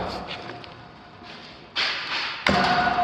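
Wooden overhead panel garage door on new construction, pushed by hand, giving two abrupt thuds with rattling noise in between, close and fairly loud.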